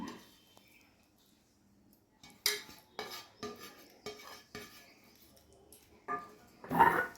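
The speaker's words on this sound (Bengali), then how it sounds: "এবার ঢাকনিটা আটকে দিলাম" A steel tiffin box is handled and its lid clamped shut after fish with mustard oil and grated coconut goes in, giving several sharp metallic clinks and clacks, with a louder clatter at the end.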